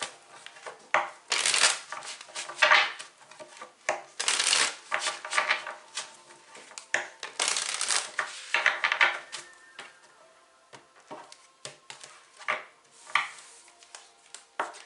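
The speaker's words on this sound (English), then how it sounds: "that's the last thing I was going to do is just pull these chakra cards here" A deck of chakra cards is shuffled by hand: close, papery riffles and flutters in bursts, fading into lighter, sparser card slides and taps toward the end, with no voice.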